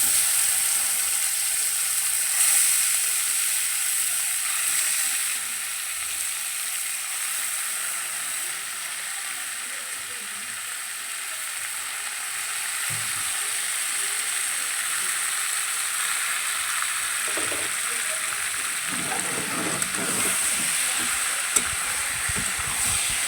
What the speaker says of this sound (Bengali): রসুনগুলো লাল লাল করে ভাজা হয়ে গেছে, এবার এর মধ্যে ওই লোটেগুলো দিয়ে দেবো মাখানো